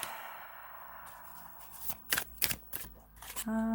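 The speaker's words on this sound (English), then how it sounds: "We're going to pull 3 overall cards for you." Tarot cards are shuffled and pulled during a general reading, with a few sharp close riffling bursts and card snaps after a quiet start, ending with a light ringing tone.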